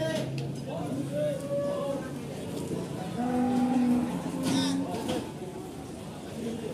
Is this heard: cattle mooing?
yes